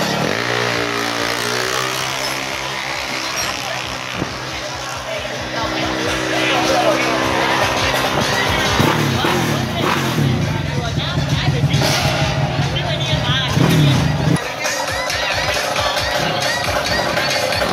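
Motorcycles rev hard while warming up for a race meeting. Loud, layered engine drone rises and falls almost without a break, with crowd noise underneath and an announcer talking over it.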